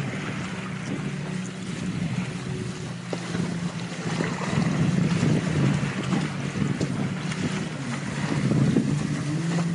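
Steady low engine drone of several arriving motorboats nearby, mixed with wind buffeting the microphone and lapping water, continuous throughout with no voices.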